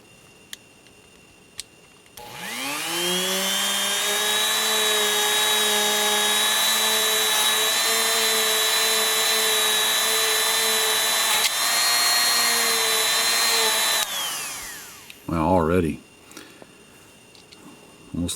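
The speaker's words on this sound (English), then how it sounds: "So whenever we got the Dremel out, we'll go ahead and polish those also." A Dremel rotary tool polishes Smith & Wesson third-generation pistol parts, spinning up into a steady, loud high whine that holds for about twelve seconds before winding down, followed by brief handling noises.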